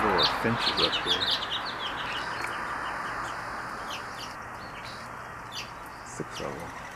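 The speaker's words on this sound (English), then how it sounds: "Gaggle of finches up here." A group of finches chirps outdoors on a spring morning, with light, scattered high tweets over a steady background hiss, busier at the start and sparser later.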